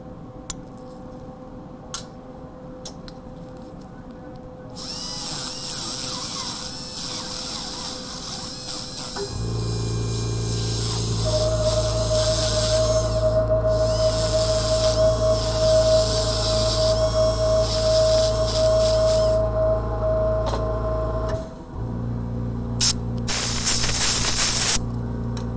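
A dental handpiece runs steadily while polishing a Class II composite filling, its sustained high whine holding for over ten seconds amid faint clinical background noise, with short bursts of spray and handling noise at the start and end.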